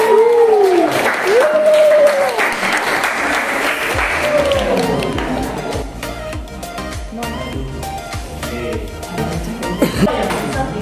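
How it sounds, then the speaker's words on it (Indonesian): A classroom of students claps for Veronica during a mathematics lesson, with steady applause and voices rising over it at the start, then fading into scattered claps and chatter. "beri tepuk tangan dulu buat Veronica"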